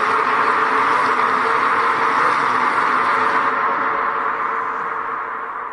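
A voice imitates the roar of a psychopathic mutant alien as a sustained, loud, raspy growl that holds steady for several seconds before tailing off.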